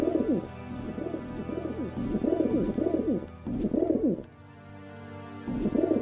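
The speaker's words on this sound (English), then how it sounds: "At least there's pigeons that sound like pigeons." Pigeons in the video game Deus Ex coo in repeated soft, throaty, rolling phrases at a steady rhythm, close and clear, with a short pause before the cooing resumes.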